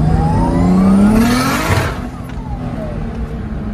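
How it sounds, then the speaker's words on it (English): A Toyota JZX100 with a fresh engine and a 4.3 differential pulls hard under acceleration, its engine note rising loud and close before easing off to a steady drone. "maybe I can give it a little bit of acceleration here and see what it's like"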